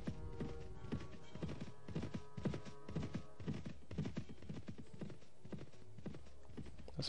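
Horse hooves clopping at a steady, rhythmic pace while riding in Mount and Blade Warband, continuous and moderately quiet over a low hum.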